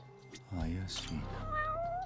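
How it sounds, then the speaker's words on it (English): A cat meows in the Judgment video game, with a short tonal call near the start and further meow-like cries running on under talk. "Oh, look, a cat."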